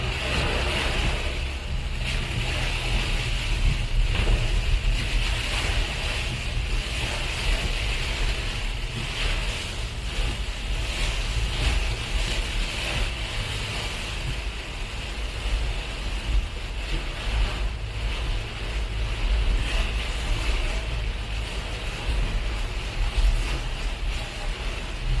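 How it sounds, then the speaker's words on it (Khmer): Very heavy rain pours down on a street, a dense, unbroken roar of water holding steady and loud for the whole stretch, with no voices heard. "ដល់នេះភ្លៀងខ្លាំងមែនទែនបាទ"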